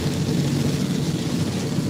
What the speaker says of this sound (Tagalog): Lakas ng ulan, nak ng pateng.